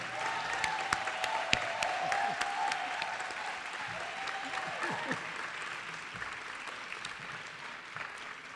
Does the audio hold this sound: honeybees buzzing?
no